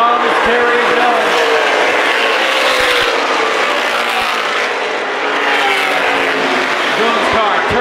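Late model race cars roaring around Winchester Speedway, a dense, loud, continuous engine drone from a close pack, with a commentator talking over it.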